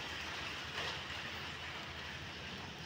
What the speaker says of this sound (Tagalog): naririnig nyo ba ang patak ng ulan?